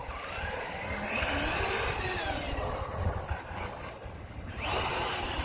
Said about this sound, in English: This one's quite noisy because the metal spur gear in here and the tires.